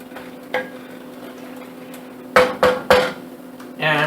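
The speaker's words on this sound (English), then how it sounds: "But we could leave it in here, just keep stirring it around." Noodles thickening in a pot are stirred with a few distinct scraping and knocking strokes against the pot, close by over a quiet simmering background.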